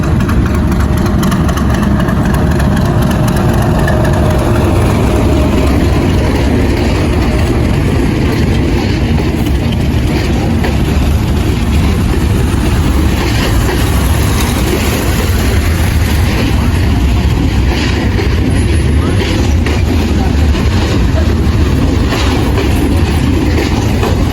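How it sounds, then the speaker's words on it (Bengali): At Kurigram railway station around 8 pm, during a power cut, the Kaunia shuttle train pulls in with a loud, steady mechanical rumble and engine drone that fills the whole stretch without letup. "দেখতেই পাচ্ছেন কাউনিয়া শ্যারল ট্রেনটি আসলে স্টেশনে প্রবেশ করলো"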